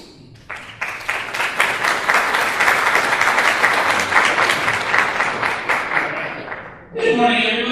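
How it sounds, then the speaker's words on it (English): A keynote audience at the 2011 EMEA Google Geo Users Summit breaks into sustained, dense applause for about six seconds. The clapping fades as a voice starts speaking near the end. "So we'll start off by giving Aidan a round of applause."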